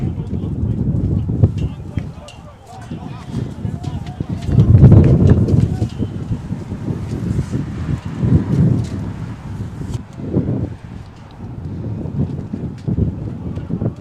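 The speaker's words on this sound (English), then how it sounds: "Very windy day here" Steady wind gusting across an outdoor high school baseball field at Wheaton Academy, a broad continuous rumble that swells and buffets the microphone, loudest around the middle, with a voice talking faintly underneath.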